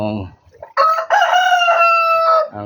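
A rooster crows loudly and close by, one long drawn-out call, with a brief clucking or voice just before.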